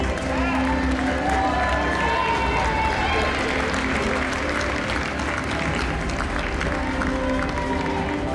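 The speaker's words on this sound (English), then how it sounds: "Let's give them one clap." Crowd applause and cheering fill a large hall at a Kiwanis International world convention in Las Vegas, a continuous loud wash of clapping with voices and shouts mixed through it.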